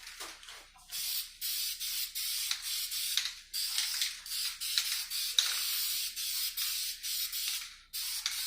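Aerosol rattle-can spray paint hissing onto a Chevy 5.3 V8 engine in a budget rebuild, a string of short and long bursts broken by brief pauses, fairly close and steady, with no talking.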